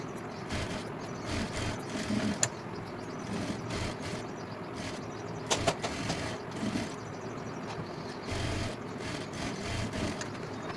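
A sewing machine stitching a boat-neck princess-cut blouse runs in quiet, intermittent bursts of rapid mechanical chatter with short pauses between runs.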